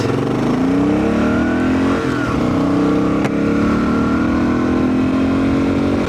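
A first-generation Kawasaki KLR650 single-cylinder motorcycle accelerates hard, its engine note climbing steadily and loudly up through the revs in one long pull, heard close from the rider's position.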